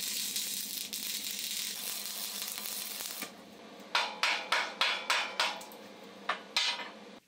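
Tack welding on a metal upcycled flower basket: a steady crackling hiss for about three seconds, then a run of short, sharp welding bursts in quick succession, close and fairly quiet.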